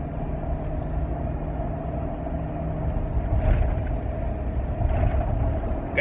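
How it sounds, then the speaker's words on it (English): A truck cruising at highway speed, around 65 miles an hour, with steady loud road and engine rumble throughout and slight surges along the way, no talk. "Gotta give this truck the old 65 mile an hour."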